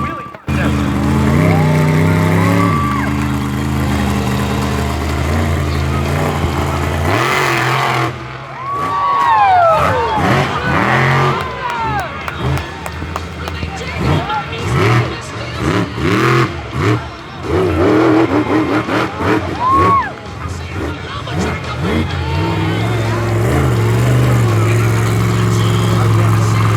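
A monster truck's engine roars through repeated hard revs during a wheelie contest at Wiscasset Speedway, loud and close, with rising and falling pitch sweeps and bursts of tire noise, and a voice heard at times.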